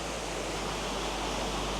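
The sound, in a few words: flowing water dripping over stones on Lushan mountain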